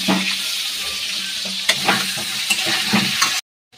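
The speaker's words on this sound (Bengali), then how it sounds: "আলুগুলো আমার লাল লাল করে ভাজা হয়ে গিয়েছে" Potatoes frying in hot oil with turmeric and salt, a steady close sizzle broken by a few sharp stirring clinks, before the sound cuts off abruptly.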